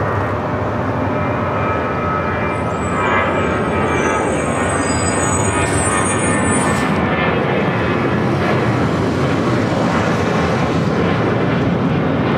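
An airliner bound for Chicago O'Hare takes off on runway 25 right at LAX, a loud, sustained jet roar that stays broad and even throughout, with no voices.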